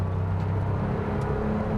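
A Porsche 1967 911R tribute car's engine runs steady and close, a continuous low rumble with slight rev shifts as it goes through the gears, no voices.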